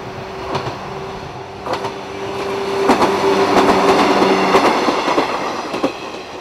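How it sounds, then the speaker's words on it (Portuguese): A train rolling on rails, heard from inside the carriage, with a steady rumble, repeated clickety-clack wheel beats and a faint tonal whine, loud and continuous with no talk. "No trem com destino a Sate"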